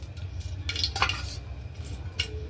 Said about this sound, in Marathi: आता आपण दोन चमचे तेल ओतूया